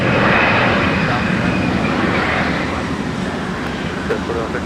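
Aircraft arriving at Minneapolis–St. Paul Airport produce a steady, broad jet roar that fills the scene at a constant loud level, with faint talk beneath.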